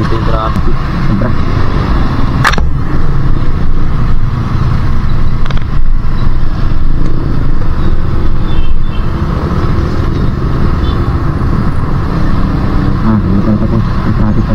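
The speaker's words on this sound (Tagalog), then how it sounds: "Nandito yung traffic. Sobra." Heavy road traffic around a Winner X motorcycle on a long ride between Tarlac and Laguna, a steady loud engine and road rumble with wind buffeting throughout and occasional distant horn-like tones.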